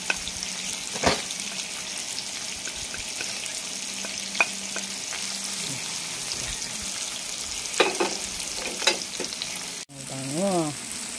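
Onions sautéing in a pan for bangus sisig, a steady sizzle with scattered pops and utensil clicks, ending with a brief clatter and a short rising tonal squeal near the end.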